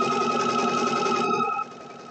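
A domestic sewing machine stitches an appliqué seam in a steady, close mechanical whir with a faint rhythmic pulse, then eases to a quieter, lower hum as it slows near the end.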